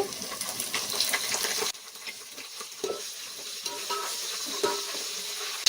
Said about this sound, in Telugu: ఉల్లిపాయలు బాగా వేగిన తర్వాత పచ్చిమిర్చి వేసుకోవాలి.